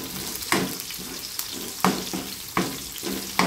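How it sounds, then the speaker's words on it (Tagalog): Garlic and onion sautéing in hot oil for ginisang munggo, a steady soft sizzle broken by periodic louder scraping stirs roughly every half second to second. "Habang ginigisa natin yung bawang at saka sibuyas"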